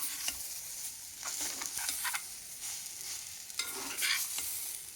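Rava sizzles in a pan with masala as a spoon stirs it steadily, giving close, continuous scraping and soft crackling with irregular clinks throughout.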